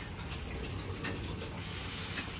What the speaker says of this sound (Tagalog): So, una mo natin gagawin is maglagay ng tubig.